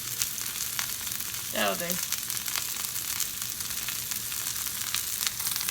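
Vegetables for a plant-based breakfast sauté in a hot pan with a steady, close sizzle that runs the whole time, while a voice speaks briefly in the middle.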